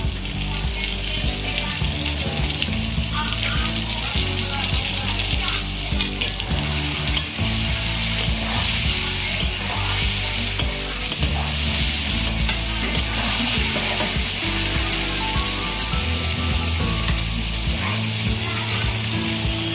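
Food fries in a pan under loud, continuous stirring, with rapid scraping and rattling strokes over a constant sizzle. It is close and busy throughout.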